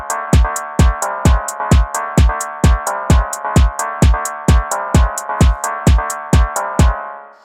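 A basic phonk beat plays: a loud, even loop of hard kick and snare hits with a ringing tonal layer driving each step, and no voices.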